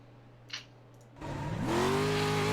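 Onboard a Pro4 off-road race car in a rally race at Sonoma: after a quiet moment the engine surges in loud and close, rising in pitch as it revs hard and then holding a steady high roar.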